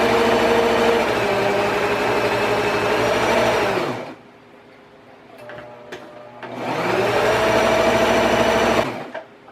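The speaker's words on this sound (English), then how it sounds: "we're going to go ahead and get this on our sewing machine, and I'm doing a 1/4 inch seaming" A sewing machine stitches a quarter-inch seam on burlap in two loud, close runs of fast, steady whirring, separated by a short quiet pause with faint handling clicks.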